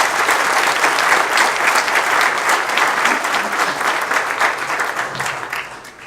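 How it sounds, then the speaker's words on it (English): A crowd at an evening interfaith gathering applauds loudly and steadily to welcome a speaker, a dense wash of clapping that eases slightly toward the end. "Please welcome him up with a loud round of applause."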